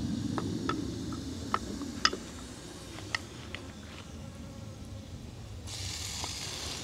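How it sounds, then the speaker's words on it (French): A steady swarm of flies buzzing close by over salmon at an outdoor meal, a dense continuous drone with a few louder individual buzzes passing near, no voices. "avec cet essaim de mouche qui est arrivé rapidement sur sur nos saumons"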